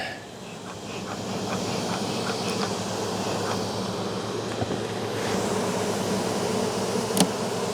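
Bees buzz around an open hive during a late-August inspection and honey pull, a steady, close swarm hum with faint knocks from handling the frames.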